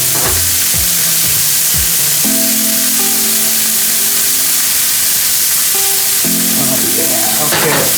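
Burger patties and vegetables fry on a griddle with a loud, continuous sizzle, overlaid by metallic spatula scrapes and tonal clanks as food is flipped and moved.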